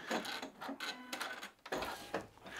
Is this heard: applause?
no